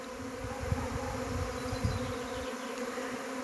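A primary swarm of honeybees fills the air with a dense, steady buzzing hum, many wings droning together close by without pause, with a couple of faint knocks beneath.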